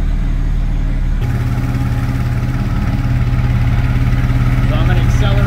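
A GM Gen V engine revs up from idle, its loud, steady mechanical drone shifting into a firmer, busier pitch as the throttle opens and holding there close by.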